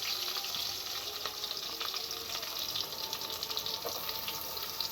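Chopped garlic and onion frying in oil for a lentil and cucumber dish, a steady moderate sizzle with faint scraping of stirring and no voices.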